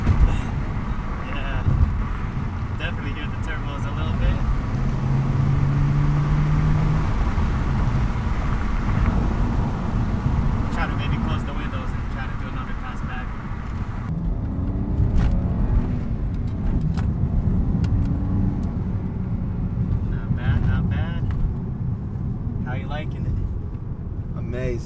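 BMW 335i with a new charge pipe and DCI, its turbocharged engine droning steadily from inside the car while driving, with people talking over it throughout.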